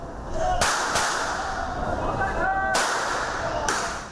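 Several sharp, loud cracks ring out at irregular intervals over a steady background hum, like gunshots fired at a distance.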